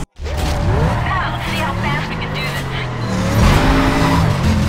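Mercedes racing car in Need for Speed Carbon, its engine droning and rising in pitch through gear changes with tire squeal and skidding, loud and continuous, a voice talking over it.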